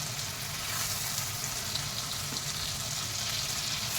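Chopped tomatoes with turmeric and salt fry in a pan over a slowed flame for anda bhurji, giving a steady, close hiss and crackle of sizzling throughout.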